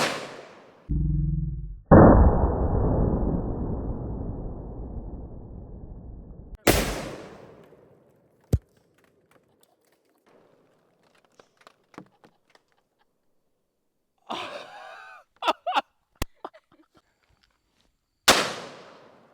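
Loud, sharp shots from a .500 Magnum revolver at cans outdoors, several widely spaced blasts, each with a long ringing decay, then scattered small clicks and clatter between shots.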